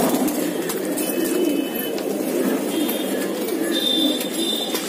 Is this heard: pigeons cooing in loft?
yes